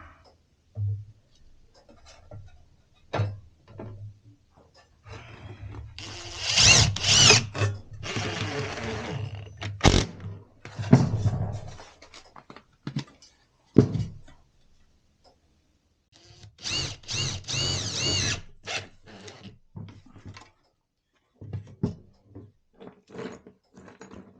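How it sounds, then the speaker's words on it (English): A power drill drives short screws into the roof of a PVC bluebird and tree swallow nest box, with several short bursts of whirring motor buzz separated by clicks, handling taps and quiet gaps. "We use the short screws to screw our roof down."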